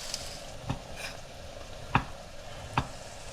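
Sausage, vegetables and ground beef cook in a pan, with a soft background sizzle and a few sharp utensil scrapes and knocks against the pan, close and without talk.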